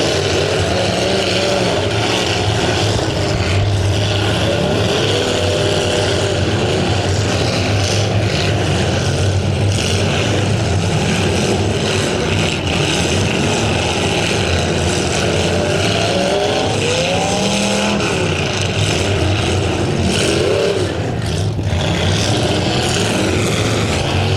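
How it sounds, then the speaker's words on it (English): Demolition derby cars roaring around an arena, a dense continuous wash of loud engine revving and rumbling with occasional surging notes, no distinct voices. "These slightly used automobiles battling it out"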